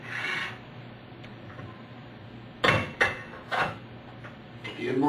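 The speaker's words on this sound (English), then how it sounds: "Then you take your gearbox, slide it on the shaft" Metal gearbox sliding onto a keyed shaft over the key, a few sharp metallic scrapes and knocks near at hand, separated by quiet pauses.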